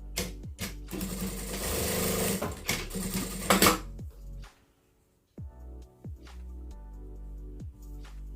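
A sewing machine stitches fabric in a fast, steady run for about three seconds before stopping, followed by quieter clicks and short mechanical bursts as the thread tension is adjusted.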